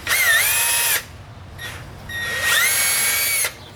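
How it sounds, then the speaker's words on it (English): A power drill with a 1/4 inch bit routes out a hole during a CB radio antenna install on a Jeep Wrangler JK. Two loud, high whining bursts rise in pitch as the motor spins up, with a faint short run between them. "Okay, so now I got a 1/4 inch bit. So I'm going to route out a little more."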